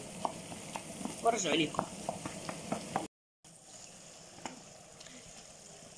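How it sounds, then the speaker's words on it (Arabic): Liver and onion frying in a pan, crackling and sizzling with stirring sounds, while a voice speaks briefly. After a short gap the sizzle continues more quietly. "ونخليها تطيب مع البصلة حتى تتقلى مزيان"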